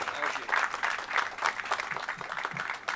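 Applause from an audience at a government opening ceremony, uneven bursts of clapping rising and falling across a few seconds, moderately quiet, with voices mingled underneath.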